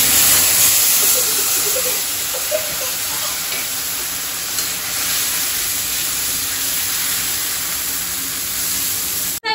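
Onion paste sizzles loudly in hot oil with dried red chillies, whole garam masala and bay leaves, a broad steady frying hiss close up throughout, with no talking.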